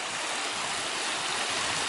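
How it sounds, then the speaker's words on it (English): A mountain stream on Llawlech Ridge flowing in a steady, dense rush of water, close and unbroken throughout. "there's a little bit of water still in the streams, the mountain streams"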